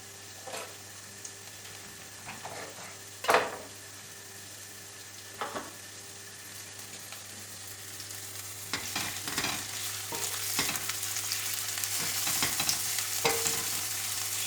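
Onions cooking slowly in a pan for an olive-oil leek dish, a soft steady sizzle with a few spoon knocks and scrapes, growing slightly busier toward the end.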